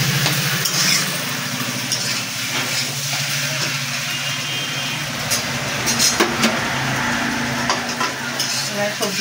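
Spices, cauliflower stalks and potato sizzle and fry in a pan, with a spoon stirring steadily through a constant close hiss.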